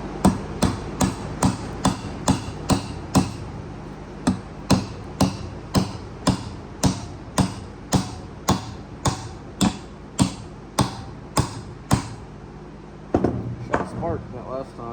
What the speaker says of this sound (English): Here, I'm going to hammer it in.